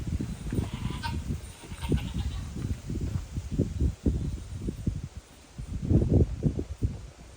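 Sheep bleat in a grassy pasture on a hot day, several loud, close calls coming in uneven bursts, with quieter stretches of rustling and grazing noise between them and no voices.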